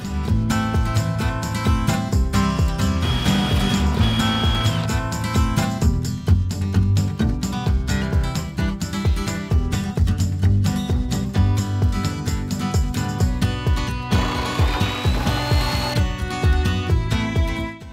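A power tool cuts a sink opening in a butcher block countertop made from firewood, a loud, continuous, close whine and grinding that runs almost unbroken for the whole stretch, with rough texture changes as the cut progresses.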